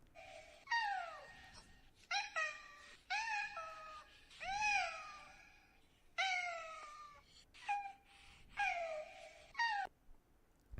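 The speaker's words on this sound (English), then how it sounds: "it's just a little kitty making some weird sounds." A small kitten lets out a string of strange, warbling meows and wails, about eight drawn-out bent cries in separate bursts, clear and close against a quiet background.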